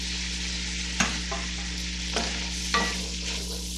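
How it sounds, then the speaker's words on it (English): Diced potatoes sizzle in a pot for Rhode Island clam chowder, with steady frying crackle over a low hum and three or four distinct stirring scrapes and clunks spaced across the stretch. "I'm going to add in my diced potatoes"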